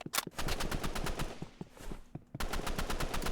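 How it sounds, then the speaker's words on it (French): Rapid bursts of automatic gunfire in a Roblox shooting game, loud and close, with a short lull before the firing resumes. "il y a quelqu'un qui tire"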